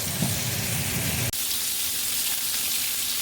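Garlic butter chicken searing in a hot skillet, a steady close sizzle and crackle of fat that runs without pause, with no talking.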